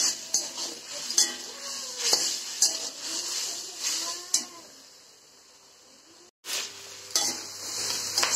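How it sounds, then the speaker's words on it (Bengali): Meat and potatoes being stirred and sautéed in a pot, with a spoon scraping and clinking against metal at steady intervals over a soft sizzle, close up, briefly cutting out partway. "আমি কিন্তু মাংস আর আলুগুলো কিন্তু ভালো করে কষিয়ে নিচ্ছি"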